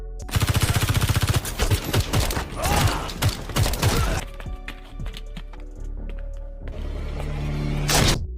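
Movie gunfight gunfire: a rapid burst of automatic rifle fire followed by spaced pistol shots and clanks, loud and close, ending with a mechanical whir and another burst, no speech.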